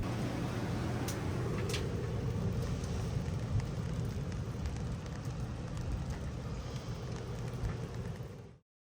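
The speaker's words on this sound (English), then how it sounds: "rain started falling" Rain pours down at an off-road trail during a Toyota off-road event: a dense, steady wash of rainfall with scattered patters and drips, fairly loud and continuous before cutting off abruptly.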